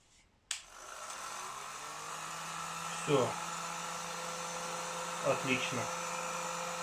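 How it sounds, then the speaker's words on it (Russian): A KVT TT-2000 hair dryer, repaired and reassembled, runs with a steady whir and low hum throughout after a click at switch-on, while someone speaks briefly over it. "собрал я фен. И давайте проверим уже в собранном состоянии"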